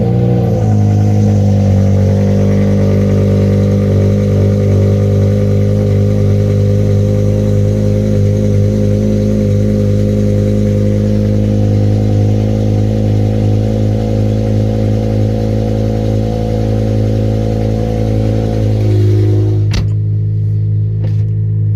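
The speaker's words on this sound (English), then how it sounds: "we're warming up the V10 here" A BMW M6 V10 warms up after an oil change at a car meet, holding a loud, steady, harmonically rich drone with slight revving swells. It cuts off abruptly near the end.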